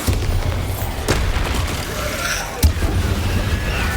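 A Bombarda blast spell in Hogwarts Legacy detonates in a short, sharp boom amid busy combat noise, with a softer thud shortly before it.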